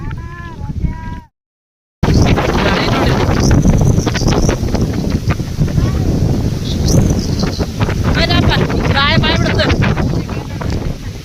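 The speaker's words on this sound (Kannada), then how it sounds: "ಗಾಳಿ ನೋಡಿರಿ ಹೆಂಗೆ ಬಿಟ್ಟೈತ್ರಿ" Strong wind gusts across a hilltop at Yellamma's hill as a loud, continuous roaring rush buffeting the microphone after a brief quiet start, with faint voices underneath.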